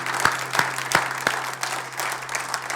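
A congregation at a Sunday church service applauding together, a full wash of clapping from many hands with a few sharper claps standing out near the start, fairly close and steady.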